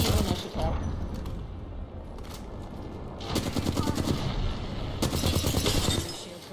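Rapid automatic gunfire in the battle royale game Apex Legends, several dense bursts of shots over ongoing game noise, with voices talking intermittently alongside.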